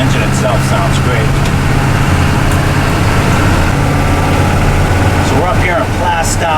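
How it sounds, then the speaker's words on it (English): GM 6.2 diesel engine idling close by, a loud steady low drone with a constant throb, while someone talks over it at times. "The engine itself sounds great."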